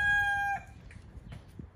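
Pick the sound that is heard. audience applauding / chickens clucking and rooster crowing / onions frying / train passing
chickens clucking and rooster crowing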